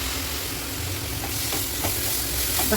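Tomatoes sizzle as they fry in a pan of chicken curry. A steady, close hiss and crackle carries on throughout, with a few faint stirring scrapes.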